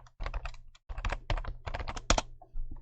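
Quick typing on a computer keyboard, close and crisp, with bursts of rapid key clicks broken by short pauses.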